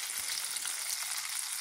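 Beef and garlic fry in melted butter, giving a brief, loud, even sizzle with fine crackles and no voices.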